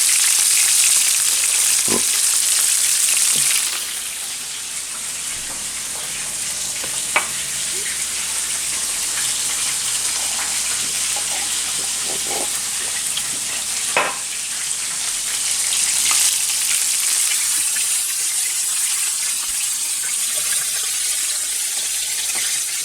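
Shrimp for firecracker shrimp scampi sizzle in a pan, a constant loud hiss with occasional clinks and scrapes as pieces are moved, easing slightly partway through.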